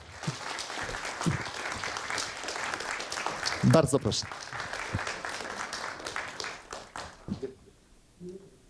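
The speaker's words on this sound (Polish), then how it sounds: "Wielkie brawa." An audience at a film event applauds actors with steady clapping that fades out toward the end, while a voice briefly speaks over it.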